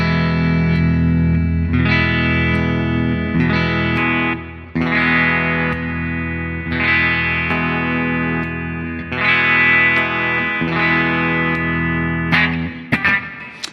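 Distorted electric guitar chords from an Epiphone Les Paul Prophecy ring out loud and sustained, changing every couple of seconds with effects-laden tone, ending in a brief scrape.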